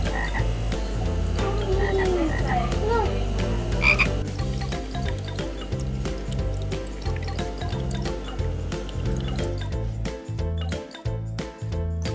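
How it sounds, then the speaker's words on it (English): A frog croaks in a pet store, loud and close, with repeated rhythmic calls over trickling water and faint background sounds. "Lahi frog."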